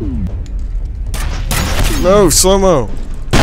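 An overpowered shotgun in the video game FEAR fires booming blasts in quick succession while someone talks excitedly over the gunfire.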